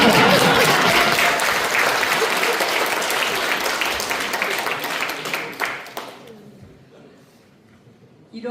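Dense audience applause fills a forum hall in the National Assembly, steady and loud for about six seconds before thinning out into scattered claps and quiet room tone.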